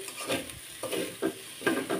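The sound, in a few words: stirring and frying mashed fish tail bharta in a pan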